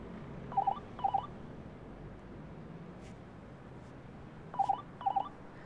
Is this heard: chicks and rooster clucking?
no